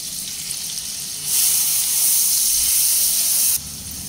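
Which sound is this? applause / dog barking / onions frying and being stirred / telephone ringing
onions frying and being stirred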